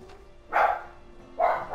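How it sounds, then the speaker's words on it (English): A dog barking in the video game Days Gone, two loud separate barks close by over a quiet background hum, with no talking. "There goes Bertha barking her ass off."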